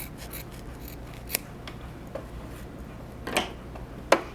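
Scissors trim fabric for a bowl cozy, giving a few sharp, isolated snips over quiet rustling, close by with no talk.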